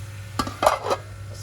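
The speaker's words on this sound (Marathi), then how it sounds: "झाकण ठेवणार आता दोन मिनटं झाकण ठेवायचं" A metal lid set down on a cooking pan of baby shark masala, giving a few quick clinks and a short rattle, close and clear over a faint low hum.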